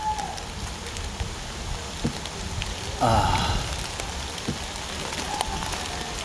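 Steady rain patters on a surface with a dense, even hiss during a storm beside anchored trawlers, broken by a brief louder rush and faint voices in the background.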